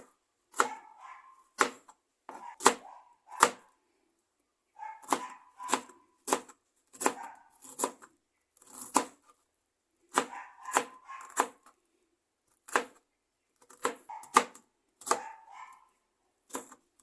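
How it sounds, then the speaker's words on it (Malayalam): A knife finely chops onion on a board for chicken chukka, making close, crisp strikes in quick rhythmic bursts of several chops separated by short pauses, with no talking. "ഇനി നമുക്ക് കുറച്ച് സവോള ഒന്ന് ചെറുതായിട്ട് കട്ട് ചെയ്തെടുക്കാം."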